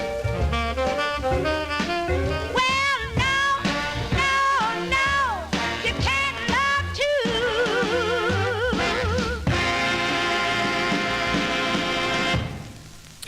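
A 1954 record spinning as a vinyl 45, with a singing voice over a band, loud and continuous, ending with a sustained chord that cuts off near the end.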